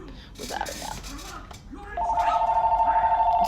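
A telephone rings with a steady electronic trill, entering partway through and repeating in a fast even pulse over a live talk show, after a voice speaks first.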